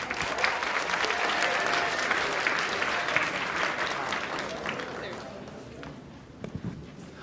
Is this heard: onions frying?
no